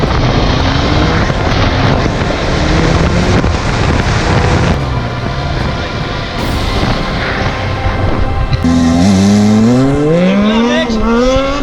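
A heavily loaded MV motorcycle rides with a loud, continuous engine drone and strong wind rush, the pitch rising and falling as it revs near the end, with someone talking over it.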